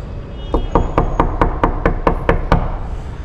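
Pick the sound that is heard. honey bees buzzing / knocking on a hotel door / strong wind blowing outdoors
knocking on a hotel door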